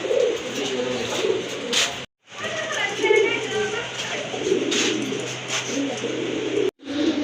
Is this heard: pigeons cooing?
yes